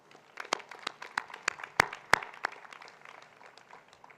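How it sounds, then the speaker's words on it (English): Applause at MICA's 23rd convocation ceremony in 2018: a fairly quiet patter of scattered hand claps with a few sharp, louder claps standing out, thinning toward the end. "A big round of applause for everyone"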